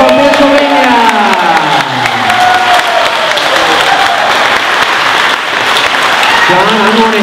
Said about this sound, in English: So everybody get ready for a huge round of applause.